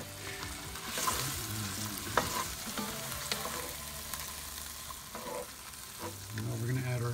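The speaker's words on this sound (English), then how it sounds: "this has been simmering down for about 10 minutes." Thick beef stew bubbles and sizzles in a pot on a Pit Boss ceramic grill, a close, steady crackling simmer with occasional clinks and stirring noises.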